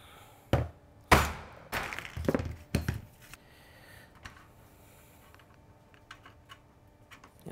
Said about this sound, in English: So I'm just going to chop that there with a chisel.